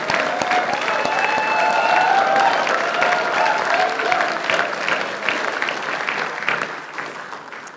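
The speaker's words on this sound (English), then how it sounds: "give yourselves a resounding round of applause because you deserve it" Graduates at a Macquarie University ceremony give themselves a resounding round of applause, dense sustained clapping from a large crowd that swells and then slowly tapers off.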